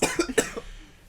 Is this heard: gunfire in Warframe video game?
no